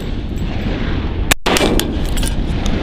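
A single loud, sharp gunshot from a Wilson Combat 300 HAM'R rifle fired outdoors on a range, breaking through steady wind noise with a brief ringing tail after it.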